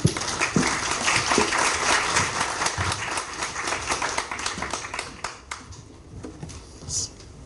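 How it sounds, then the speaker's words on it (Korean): Audience at a tech forum clapping to welcome a speaker to the stage, dense applause that gradually thins and fades out toward the end. "큰 박수로 환영해 주시기 바랍니다."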